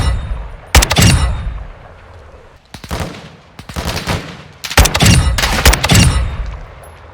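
Sniper rifle fire in a shooting video game: several loud, sharp shots spread over a few seconds, some in quick pairs, with booming low tails and no talk.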